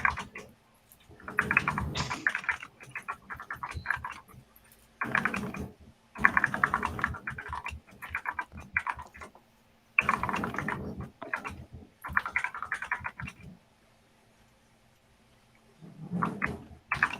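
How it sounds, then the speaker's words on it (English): Bursts of rapid, clacky mechanical keyboard typing come in uneven flurries separated by short pauses, fairly close and crisp. "we all like a good noisy keyboard"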